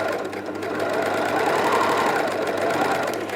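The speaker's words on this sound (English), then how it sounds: "And now I can carry on sewing." An overlocker (serger) runs steadily at close range as it stitches fabric, a dense, fast mechanical whirr lasting a few seconds without speech.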